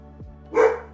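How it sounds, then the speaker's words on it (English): A dog barks at a trash truck, one short sharp bark following a brief whine, close and clear over a quiet background. "She's barking at the trash truck."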